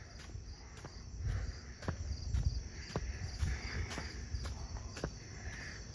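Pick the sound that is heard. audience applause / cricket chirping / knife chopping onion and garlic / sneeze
cricket chirping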